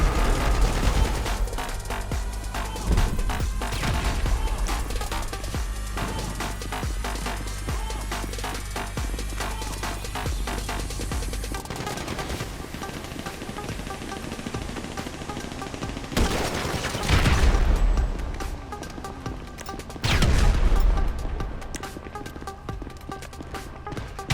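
Dense, rapid gunfire and repeated grenade explosions roar continuously in a GTA V battle, with heavy booms punctuating the barrage near the end.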